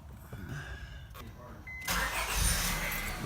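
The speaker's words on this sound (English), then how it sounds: "We're just running the car with the fuel pump disconnected to get rid of the fuel pressure" A 2002 Honda Accord with its fuel pump disconnected cranks and then catches, the engine running close and steady for the last second or so after a quieter start.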